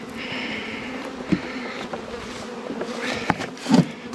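Honeybees buzz around a hive during a spring inspection, a steady close drone with a few sharper passes near the microphone and no talking.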